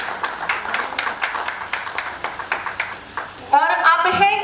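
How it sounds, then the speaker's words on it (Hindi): Audience applause at a women's day fashion event, a run of scattered, rhythmic claps at moderate distance, followed by a voice speaking over the hall near the end. "कम ऑन, जोर की तालियां आप सभी की हो जाए।"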